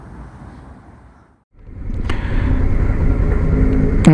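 A 2013 Suzuki V-Strom 650 pulls away on the streets of Hoboken, New Jersey. Its engine drone rises to a loud, steady rumble after a brief dip, and there is no talk.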